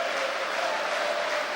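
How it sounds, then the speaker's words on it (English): Ice hockey fans clap steadily throughout a Nottingham Panthers versus Hull Stingrays arena game, a dense, even wash of applause with faint crowd murmur. "Fans are clapping it down."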